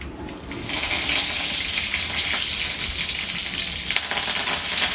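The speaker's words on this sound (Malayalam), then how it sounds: "കടുക് പൊട്ടി നമുക്ക് കറിവേപ്പില ചേർത്ത് കൊടുക്കാം." Curry leaves added to hot oil with popped mustard seeds crackle and sizzle, a steady bright hiss with a few sharp pops, no talking.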